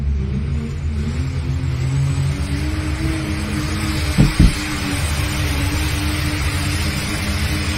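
A pulling vehicle's engine roars steadily at full throttle and high revs during a pulling competition, with a deep, continuous rumble and a brief louder burst partway through.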